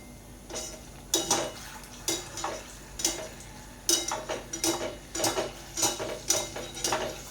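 Cengkodok fritter batter being stirred in a bowl, a spoon scraping and clinking against the sides in uneven bursts, close and fairly quiet, with no talking.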